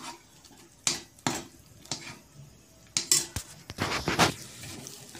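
Millet flour dhindo stirred in a pot: a handful of scraping knocks of a utensil against the pot, irregular and close, over quiet kitchen background.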